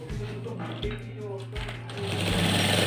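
A sewing machine stitches the edge of a shirt in short bursts of rapid needle clatter, close and fairly quiet, with a steadier whir building toward the end.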